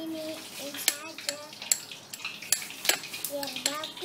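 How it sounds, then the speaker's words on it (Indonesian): A utensil stirs and scrapes mayonnaise filling in a pan, sending repeated clinks and clatters in an uneven rhythm, close and fairly loud, with faint voices in the background. "aduk-aduk biar merata."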